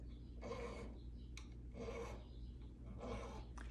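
A file rasps along guitar fret ends to clear the wire burr, three steady back-and-forth strokes at close range with brief gaps between them.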